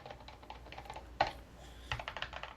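Fingers tap across a computer keyboard in quick, irregular keystrokes, close and fairly quiet, with a couple of louder key hits standing out and no talking.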